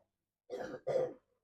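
A child with a chest infection gives two short, close coughs in quick succession during chest physiotherapy, then silence.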